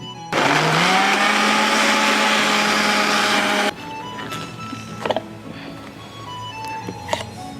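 A blender grinds Thai green curry paste for prawn curry, a loud steady whir running for about three seconds before cutting off abruptly, followed by faint kitchen clatter.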